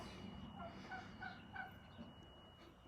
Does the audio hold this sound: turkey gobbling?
yes